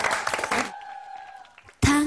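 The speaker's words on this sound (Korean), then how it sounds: "박수로 청해 드리겠습니다" Studio audience applause on a Korean television music talk show, a brief broadband burst of clapping that fades out, followed by a sustained tone and a loud musical onset near the end.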